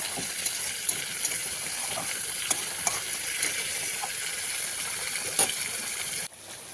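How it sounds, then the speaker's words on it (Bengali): Parshe fish cooks in mustard in a covered kadai, giving a steady, even sizzle and bubbling with a few faint ticks and pops throughout, close and continuous until a sudden drop near the end. "মাছ আমি এই কড়াইয়ের মধ্যে দিয়ে দিয়েছি। এভাবে এটা কাঁচাই ঢেকে ঢেকে আমি রান্না করব।"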